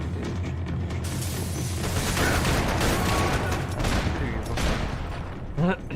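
Dense bursts of gunfire from the video game Max Payne 3 crackle and boom almost continuously, loud rapid volleys layered with a voice talking over the shooting.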